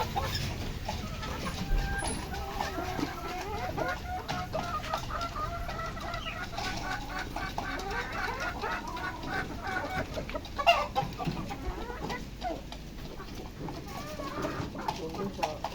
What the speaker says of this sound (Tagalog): Ganda ng mga manok dito ng kumpare ko.